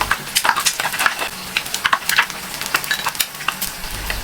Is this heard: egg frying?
yes